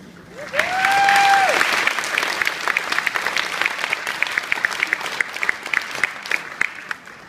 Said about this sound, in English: Let's give another warm round of applause